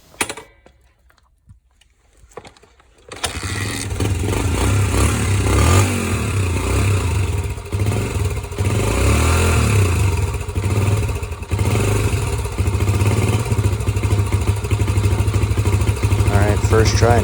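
A motorcycle engine, just back together after a carburetor cleaning, is kicked and catches after a few seconds of quiet. It then settles into a loud, close, rattling idle that runs on steadily, with a voice talking over it.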